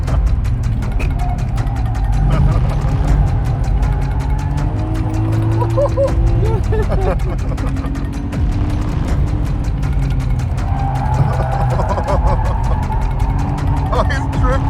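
A Nissan Skyline R34 GT-R drifting at Fuji Speedway, its engine droning steadily with revs rising and falling, heard from inside the car with people talking over it throughout.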